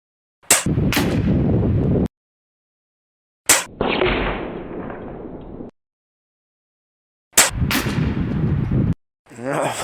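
A Chiappa FAS AR611 .22 PCP target air rifle fires pellets at a bullseye target, giving several sharp, loud cracks, each followed by a ringing tail, separated by silent pauses.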